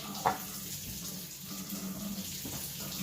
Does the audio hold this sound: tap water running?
yes